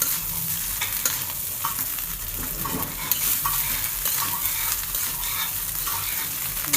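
Homemade fried rice is stirred and tossed in a sizzling pan, with a loud, steady frying hiss and repeated scraping of a spatula close by, without talk.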